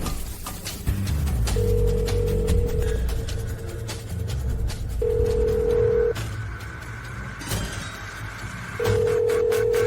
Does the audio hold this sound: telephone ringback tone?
yes